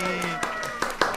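A few scattered claps at a Brazilian reality show finale watch party, brief sharp bursts under ongoing talk and cheerful voices.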